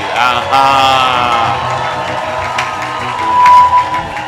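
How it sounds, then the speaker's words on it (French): A congregation at a church service cheering and acclaiming Jesus, a loud mass of raised voices and shouts with high whoops, swelling again near the end. "Est-ce que quelqu'un peut donner des acclamations à Jésus?"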